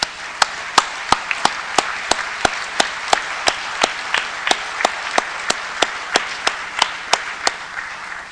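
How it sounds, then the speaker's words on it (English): Audience applause at a memorial ceremony honoring fallen law enforcement officers, a steady wash of clapping cut by evenly spaced sharp claps that keep a regular beat for the whole stretch. "Let's give them a round of applause for their leadership in this department."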